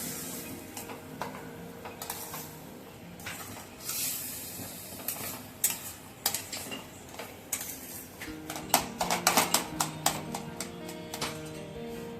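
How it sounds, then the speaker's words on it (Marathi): A spoon stirs paneer bhurji mixture in a pan, making quick irregular clinks and scrapes that grow denser and louder toward the end, over a faint sizzle. "आता हे सगळं एकजीव करून घ्यायचं"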